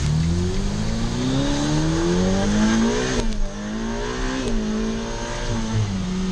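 A 2023 Ferrari F8 Spider driven in manual mode with traction control off, its engine rising in a loud, continuous climbing howl through the gears, with a brief dip around a shift before revving hard again.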